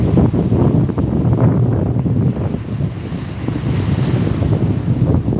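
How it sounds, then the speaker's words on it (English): Incoming tide on a Florida beach, with steady loud surf washing in continuously, wind rumble pressing on the microphone throughout and no voices. "The tide is coming in. Slowly but surely."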